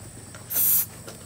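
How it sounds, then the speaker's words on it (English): Teat spray hisses in one short burst onto a dairy cow's teats after milking in a barn, brief and close against low barn background noise. "we're going to get the plates back and spray it on her teats once the milk is close"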